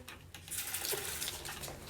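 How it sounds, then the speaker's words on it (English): Tap water runs steadily into a bowl used for washing makeup brushes, a continuous close hiss and splash with no talking. "Let's add some water."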